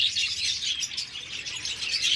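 Budgerigars and conures in an aviary give a steady, dense wash of high, overlapping chirps and tweets, close and continuous with no talking.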